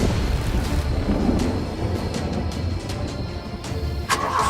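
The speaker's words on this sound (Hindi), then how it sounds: "तभी जोरदार बिजली कड़कती है और गाड़ी रुक रुक कर चलते चलते रुक जाती है।" Thunder cracks and rumbles as lightning strikes, loud and close, followed by a lingering low roar under sharp bursts. The sound is heavy and dramatic, with no voices.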